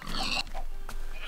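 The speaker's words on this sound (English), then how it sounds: "Too many pigs." Pigs oinking in the video game Minecraft, several grunting calls in quick succession, close and fairly loud with no talking.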